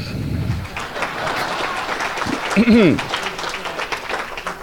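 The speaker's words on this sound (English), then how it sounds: "Applaud now." Applause at a political forum for Texas lieutenant governor and attorney general candidates: scattered, moderately loud clapping from the audience, with voices talking over it and a brief vocal sound partway through.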